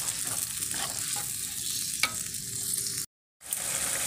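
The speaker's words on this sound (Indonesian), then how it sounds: "Kita tumis bumbunya sampai harum." Spice paste sautés in a hot pan for balado chicken gizzards, giving a steady close sizzle with light stirring taps and a brief silent gap near the end.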